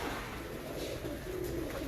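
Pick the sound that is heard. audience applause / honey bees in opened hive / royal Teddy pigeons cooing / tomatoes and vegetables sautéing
royal Teddy pigeons cooing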